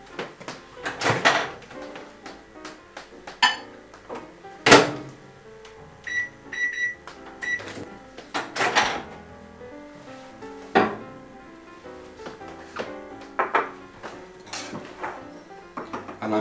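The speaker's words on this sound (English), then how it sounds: "put it in a microwave for about 50 seconds" A microwave oven door is opened and shut repeatedly in a home kitchen while a chocolate lava cake is made, sharp separate clunks and latch clicks with a short electronic beep sequence in between, close and clear.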